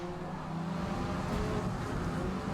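A Mazda race car in Forza Motorsport on the Kyalami circuit runs close alongside, its engine a low, steady drone blending with other racing engines, with no voices.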